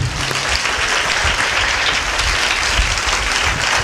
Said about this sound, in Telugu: చప్పట్లు కొడదామా గట్టిగా?